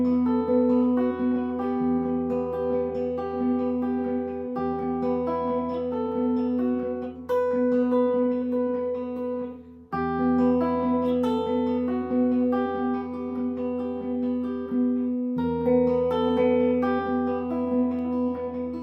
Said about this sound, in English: The main theme, it sounds a little something like this.